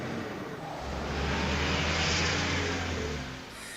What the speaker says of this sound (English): Stupid bus almost ran right into us.